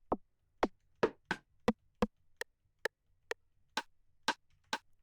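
Roland TR-707 rimshot samples are auditioned one after another, about a dozen sharp, dry clicks at uneven intervals, each crisp and isolated against silence, close and clear.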